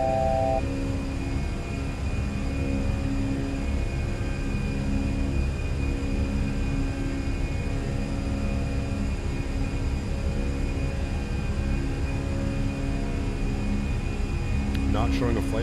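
Fenix A320 jet engines in Microsoft Flight Simulator spooling to climb thrust, a steady broadband roar with a droning low rumble and a faint constant whine, continuous and unchanging for the whole stretch.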